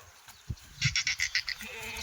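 Pregnant Kathiyawadi goats in a truck let out a quavering bleat made of rapid stuttering pulses, fairly near, after a couple of soft thumps.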